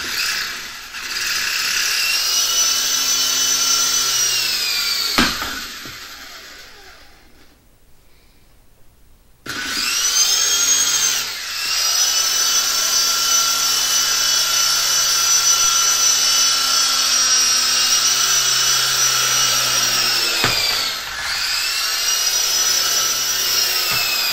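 Wi-Fli toy helicopter flying close by, its whining rotor buzz steady and loud, dropping to silence for a few seconds, then spinning up again and holding, with pitch dips near the end.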